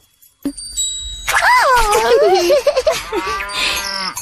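Untied calves moo close by in long, wavering, drawn-out calls, loud and clear, with a faint tinkle at the start.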